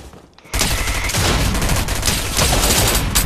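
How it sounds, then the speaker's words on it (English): Fortnite gunfire erupts from several directions at once, a dense, loud barrage of overlapping shots and rapid bursts that starts abruptly after a brief quiet and continues without pause. "now I got people shooting from all sides"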